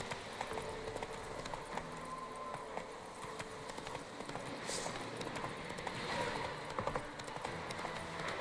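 Roach, Geralt's horse in The Witcher 3, gallops steadily with continuous rhythmic hoof clip-clop over ambient game sounds, fairly close and moderately loud.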